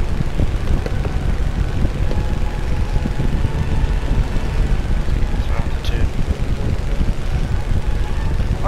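Steady drone of a P-40 fighter plane engine in War Thunder, a constant mid-loud roar with wind rush and no distinct breaks.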